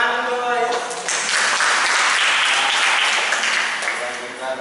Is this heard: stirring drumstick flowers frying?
no